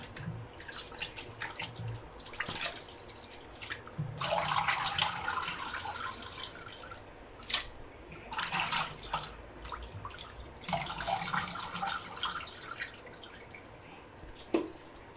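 Goat intestines are washed under running tap water, with a steady stream splashing and gurgling and louder surges as the tripe is rubbed and rinsed in the flow.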